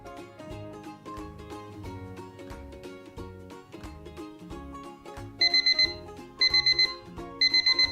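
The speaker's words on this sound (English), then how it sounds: "Once the timer buzzes and the 4 minutes is over" Kitchen timer buzzes in three short bursts of rapid electronic beeps near the end of a coffee brewing countdown, heard over background music.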